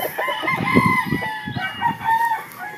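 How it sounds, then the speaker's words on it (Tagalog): A gamefowl stag at a game farm in Batangas crows close by, its long rising and falling call repeated, with faint clucking around it. "Ito po, napakagandang manok po ito mga bossing."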